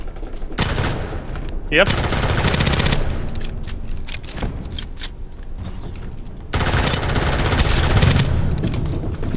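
Gunfire in the video game Starsiege Deadzone, with long bursts of rapid automatic shots separated by short gaps, loud and close, and a brief voice speaking between bursts.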